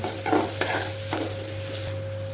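Ginger and garlic sauté in hot oil, giving a steady soft sizzle broken by a few scraping stirs of a spoon in the pan, with no one speaking.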